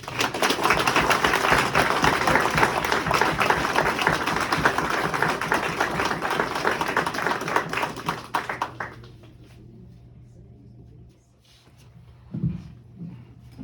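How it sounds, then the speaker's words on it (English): Audience applause at an American Legion post donation presentation, dense clapping from a room full of people that carries on for about eight seconds and then fades out, leaving a few faint sounds. "Let's give them a round of applause."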